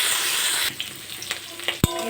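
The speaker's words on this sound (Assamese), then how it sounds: "এনেদৰে 15 মিনিটমান মই ভাজি দিম" Turmeric powder fries in a pan with a steady, close sizzling hiss that drops away after a moment, followed by soft stirring scrapes and one sharp knock.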